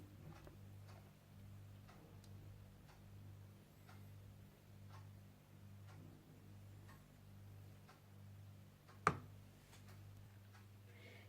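A faint, steady low electric hum with soft regular ticking from a microwave oven melting chocolate, and one sharp click near the end.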